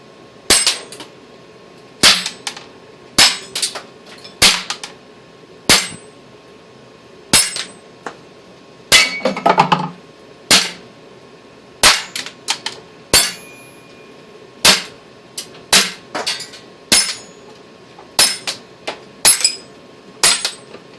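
A Daisy-made Winchester 1911 BB gun fires repeatedly at a target about ten feet away. Around twenty sharp, snappy cracks and impacts come at an uneven pace, close and loud against a quiet background.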